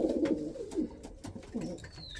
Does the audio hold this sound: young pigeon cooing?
yes